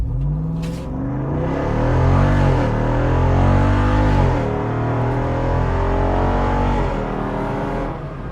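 A Jeep Wrangler SRT392 with a V8 engine accelerates hard from standstill to 80, its loud, close roar climbing in pitch through several gear changes before easing off near the end.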